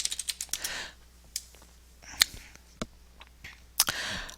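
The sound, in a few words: typing a search on a computer keyboard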